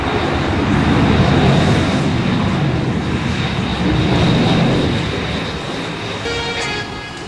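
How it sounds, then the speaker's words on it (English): Boeing B-52 Stratofortress bomber passing over an air show in India, a loud continuous jet engine roar that swells and slowly fades, with no voices. "Ladies and gentlemen, the B-52 Strato Fortress."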